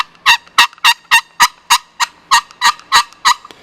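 Lil' Sly Hybrid turkey call played alone, producing eleven sharp, evenly spaced yelps in a steady rhythm, loud and close with nothing else heard.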